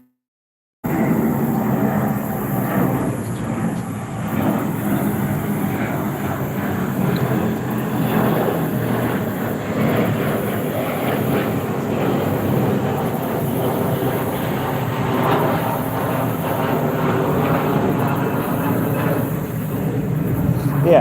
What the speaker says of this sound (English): You guys will hear planes going over quite often as we're right by Minnesota or Minneapolis St. Paul International Airport.